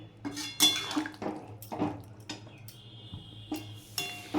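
Potato and okra curry being stirred in a pan, a spoon scraping and clinking against the metal in a few separate strokes with brief pauses, close and fairly quiet.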